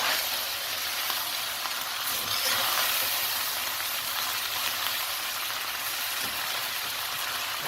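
Noodles being stirred and tossed in a hot pan, a constant close sizzle with a soft, busy hiss and faint scraping, steady throughout with no speech.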